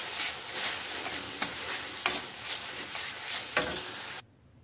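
Patin fish fries in hot oil with lime leaves and garlic, a loud steady sizzle broken by several sharp scraping stirs, ending abruptly.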